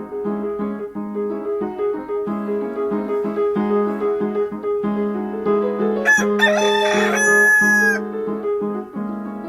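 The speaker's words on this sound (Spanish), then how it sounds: "Se oyó cantar un gallo madrugador en el patio de abajo" A rooster crows at dawn in a courtyard below, several bright drawn-out cries over a steady tonal background. The crowing rises loud and clear near the end.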